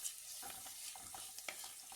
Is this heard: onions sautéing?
yes